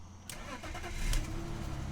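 A car engine cranks and catches after a battery change, a short starter burst followed by the engine firing up and settling into a close, steady running rumble.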